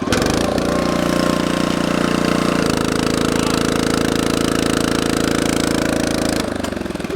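A log splitter's engine runs loud and steady with a constant droning hum, its tone shifting slightly partway through and again near the end, with no talking.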